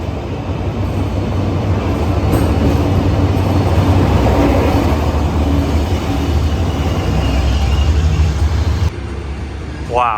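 A large Thai overnight sleeper train rumbles steadily with a low, continuous roar and rattle, loud and close, ending with a brief rising mechanical whine.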